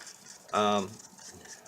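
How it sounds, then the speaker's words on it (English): Acrylic paint being stirred in a cup before a swipe gives one short, close scraping squeal, loud for about half a second, over a quiet background. "Let me stir this up a little bit."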